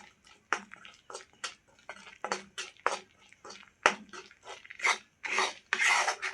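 Gram flour (besan) is dry-roasted in a pan while a spatula stirs it, making a series of close, quiet rasping scrapes in an uneven rhythm.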